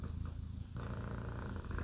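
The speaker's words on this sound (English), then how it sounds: "the purring is not for free, honey." A house cat purring close up, a low steady rumbling purr with rhythmic breathing pulses, quiet and alone.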